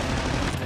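Rapid gunfire bursts from jump shooting in Call of Duty Mobile, a short dense barrage of loud overlapping shots with no pause.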